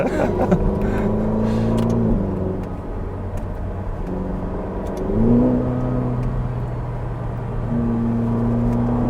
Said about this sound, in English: Red Ferrari on the street.